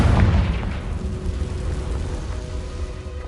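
A Confringo blasting spell goes off in the Hogwarts Legacy game, a loud booming burst at the start that fades into a long rumbling, crackling tail.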